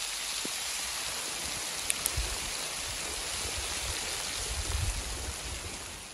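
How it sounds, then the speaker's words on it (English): Hail drums steadily on a small off-grid bunkie cabin roof in a dense, continuous hiss and patter, with a few louder thumps of heavier stones, heard from inside and without voices. "Now the hail starts."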